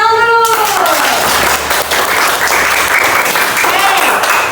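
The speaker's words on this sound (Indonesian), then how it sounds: "tepuk tangan dulu" Children in a classroom clap together for several seconds after answering a teacher's questions, steady dense applause that starts loud and stays even, with voices over the start.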